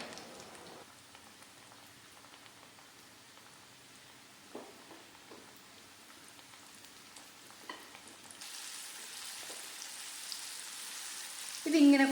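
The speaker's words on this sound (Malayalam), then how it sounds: "അപ്പം നമുക്കിതിങ്ങനെ ഓരോന്നോരോന്ന് എടുത്തിട്ട് അത് വറുത്ത് കോരിയെടുക്കാം" Chicken pieces deep-fry in hot oil with a steady, faint, hissing crackle throughout, growing louder and brighter toward the end, with little or no talk.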